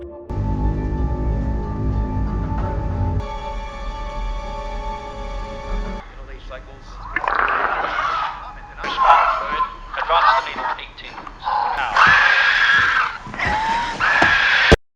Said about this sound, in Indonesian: jeritan para alien di rekaman semakin menjadi-jadi